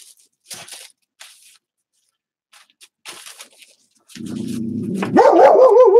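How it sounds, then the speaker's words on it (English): A dog indoors barks and yips loudly at close range, with rising whining tones, after a stretch of faint scattered scraping and rustling. "Bad dog, no bark."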